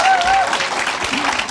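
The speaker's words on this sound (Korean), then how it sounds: "박수 부탁드릴게요." Brief burst of audience applause at a motivational talk, steady dense clapping from a crowd lasting a second or two, with a faint voice or whistle-like tone briefly over it at the start.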